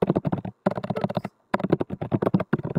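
Fingers type on a computer keyboard in close, quick bursts of clicky keystrokes, broken by short pauses, with no voice over them.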